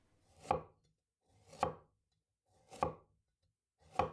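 A knife chops through eggplant on a cutting board in four slow, evenly spaced cuts, each a soft, close thud with a little crunch, heard alone with no talking.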